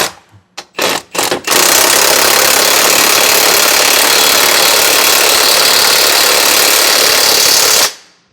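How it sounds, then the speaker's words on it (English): An impact gun hammers away at bolts on a Kioti tractor in a loud, continuous rattling buzz for several seconds after a few short stuttering bursts, then cuts off abruptly. "When the impact gun's ugga-dugging the whole way."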